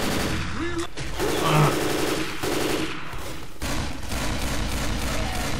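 Bursts of automatic gunfire from a gun in the video game Left 4 Dead 2, loud rapid shots in several rattling stretches mixed with game effects.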